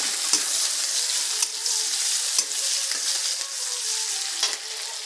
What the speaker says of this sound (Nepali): अघि नै बनाएको प्याज खोर्सानी क्याप्सिकम। अब यसलाई एकछिन भुट्छु होइन।